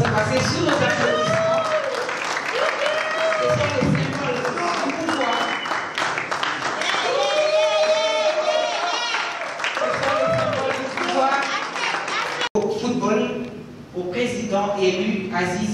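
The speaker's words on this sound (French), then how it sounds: "Ça doit se passer sous nos applaudissements." A crowd at the inauguration ceremony of a football supporters' club president claps and cheers loudly under amplified speech and shouting, the clapping carrying on through most of the stretch alongside the voices.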